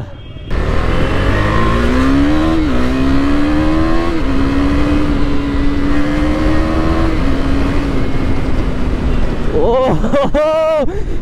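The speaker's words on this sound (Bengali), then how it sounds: "ডিউক 390 ফুল পাওয়ার কাকে বলে দেখেছো গাইস?" A KTM Duke 390 motorcycle accelerates at full power, its loud, close engine droning and climbing through the gears with steady rising pitch, then a few sharp revs at the end.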